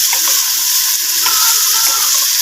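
Stuffed okra (bhindi) sizzles steadily in a hot pan while a spoon stirs it, the frying hiss loud and continuous, with soft scraping bursts from the mixing and no voices.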